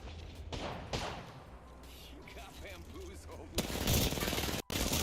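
Rapid hip-fire gunshots from a weapon in the Apex Legends video game, a dense burst of close, loud shots, with a player talking over the gunfire.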